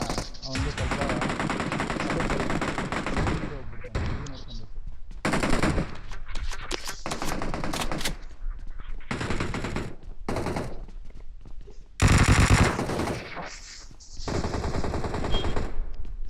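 Sustained machine gun fire in a video game, long rattling bursts broken by brief pauses, with a louder blast near the end; voices talk over parts of it.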